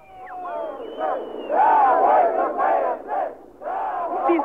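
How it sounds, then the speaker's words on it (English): A marching crowd of demonstrators in Moscow during the 1991 coup chants and shouts in rhythmic surges, loud voices rising and falling in waves with brief lulls. "These cheers and calls you can hear behind me, a column of ordinary passers-by from Moscow"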